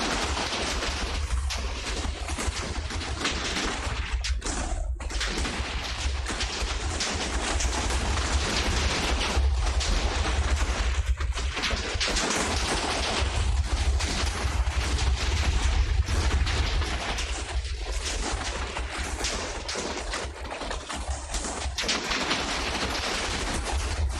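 Massed TNT blasts go off in a Minecraft server test, forming a dense, continuous roar of overlapping explosions that stays loud and unbroken throughout, with no talk.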